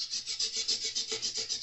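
A fine abrasive pad rubs back and forth over a classical guitar's wood in quick, even strokes, a soft close scratchy swish repeating about ten times with no talking.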